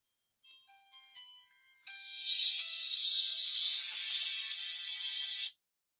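A phone ringer goes off, first a few brief melodic electronic tones, then a loud, bright, sustained chiming ring for several seconds before it stops abruptly.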